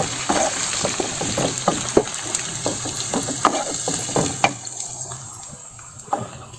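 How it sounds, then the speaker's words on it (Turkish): Onions sautéing in oil in a pot while sarma-style stuffing filling is cooked, a steady close sizzle with repeated crackling pops and occasional stirring scrapes, easing off toward the end. "Soğanım tamamen kavruluncaya kadar, yumuşayıncaya kadar kavuruyorum."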